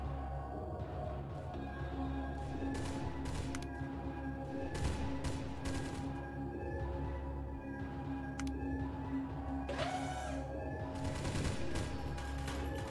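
Heavy rifles fire in the tower defense game Dracula Defense, rapid overlapping volleys of shots in short clustered bursts over a steady game background drone.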